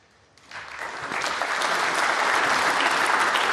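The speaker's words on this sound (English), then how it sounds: "nice appreciation from the crowd" A snooker crowd at the 2023 British Open at the Centaur in Cheltenham breaks into applause that starts abruptly and swells into a steady, full round of clapping that carries on to the end.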